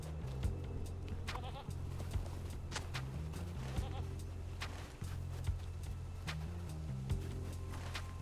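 Goats bleating in The Lord of the Rings Online, several short wavering calls scattered over a steady game soundscape with low droning music and occasional clopping steps.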